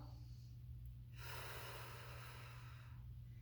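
A single long audible inhale through the nose during a core exercise, close to the microphone, rising and holding for about two seconds over a steady low hum.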